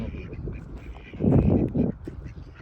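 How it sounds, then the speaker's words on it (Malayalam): Several swimming ducks quack in a noisy burst up close at Wadi Namar, amid outdoor background sound and a bit of nearby talk. "താറാവുകൾ"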